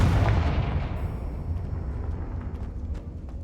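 Confringo fire spell cast in Hogwarts Legacy, a heavy booming blast with a deep rumbling tail that slowly fades over a few seconds, loud and close, with faint crackles and a high whine lingering behind.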